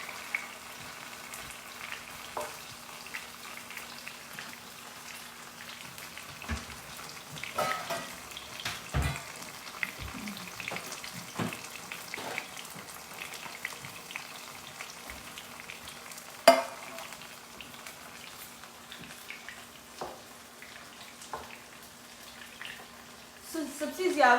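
Cubes of paneer frying and being stirred in a pan for honey garlic paneer give a faint, steady sizzle, broken by occasional soft scrapes and clicks, with some talk in the background.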